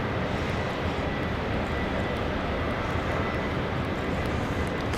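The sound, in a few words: aircraft taking off on a full-length departure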